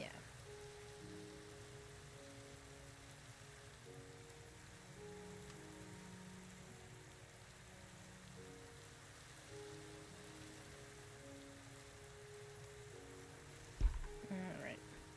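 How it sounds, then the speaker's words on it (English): Steady rainfall at night in Minecraft patters softly and continuously over low background tones, with a brief thump near the end. "since it is nighttime and raining,"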